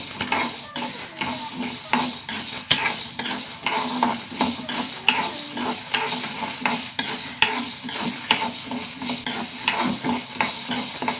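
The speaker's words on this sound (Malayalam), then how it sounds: "ഒന്ന് വറുക്കട്ടെ." Dry ingredients rattle and scrape in a pan as a spoon stirs them steadily, with a soft sizzle and repeated clinks of metal against metal.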